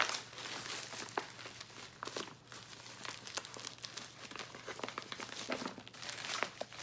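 A taped envelope holding comic books is torn open by hand, with close, irregular crinkling, tearing and rustling of paper and tape over several seconds and no talking.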